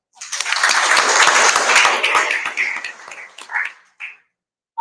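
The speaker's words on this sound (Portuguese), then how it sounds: "Uma salva de palmas, por favor." Audience at an academic event's opening ceremony bursts into applause, a loud close wash of clapping that peaks early then thins to scattered claps and fades out.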